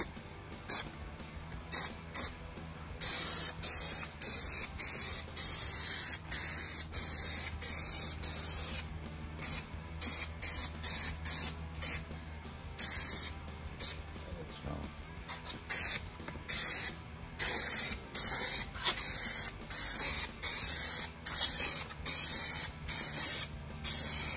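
Aerosol adhesive sprayed in a second coat onto a Mustang door panel insert, heard as repeated loud, hissing bursts of varying length separated by short pauses, close up and alone.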